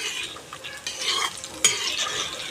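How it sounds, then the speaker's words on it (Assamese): Jackfruit pitha batter being stirred and fried in a pan over a low gas flame, a steady scraping stir over soft sizzling, with a sharper clack of utensil near the end. "এয়া মই এনেদৰে লৰাই ভাজি আছোঁ।"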